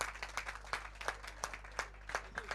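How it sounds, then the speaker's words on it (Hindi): Faint audience clapping at a community welcome gathering, a soft rhythmic patter of hands in a steady beat, distant and quiet over a low electrical hum. "तालियां बजाइए आप, तालियां बंद नहीं होनी चाहिए भाई।"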